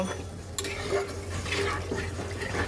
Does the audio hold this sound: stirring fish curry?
yes